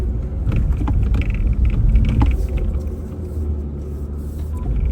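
Ford Ranger crawling along rough off-road tracks, a heavy engine and tyre rumble from close by that swells, then eases slightly, with knocks and bumps over uneven ground.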